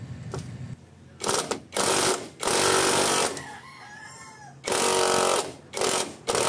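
Loud bursts of mechanical rattling from a wrench loosening the top bolt of a shock absorber on a Suzuki Wagon R Stingray minivan (DA64/DA17), in several separate runs with short pauses, with a rooster crowing in the background between bursts.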